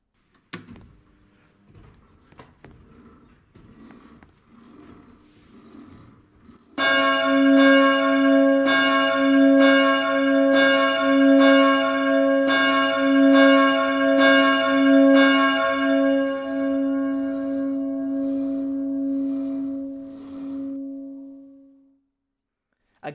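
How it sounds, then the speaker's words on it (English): A church bell in a Roblox bell tower game, the fourth bell of a ring, tolls in a loud, steady series of about eight clear strikes, then its tone hangs and fades out. "Again, another absolutely beautiful sounding bell."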